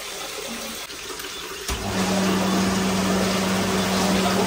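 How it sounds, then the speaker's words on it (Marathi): Tap water gushing steadily into a bathtub at a Lonavala resort, starting abruptly after a quiet moment and then running loud and constant with a broad rushing hiss, no voices. "आम्ही बाथटब भरत लावलाय"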